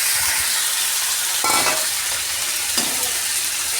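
Coconut, curry leaves and adamant creeper frying in a pan, a steady close sizzle with two brief bursts of stirring or scraping, no talking.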